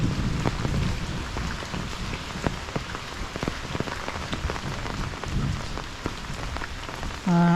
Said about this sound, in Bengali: খুবই সুন্দর বৃষ্টি পড়ছে, টিপ টিপ করে বৃষ্টি।